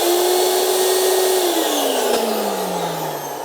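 An Air Shammee self-serve car wash dryer motor runs loud and steady with a strong tonal whine that holds, then slowly drops in pitch as the motor begins spinning down, with a brief click partway through.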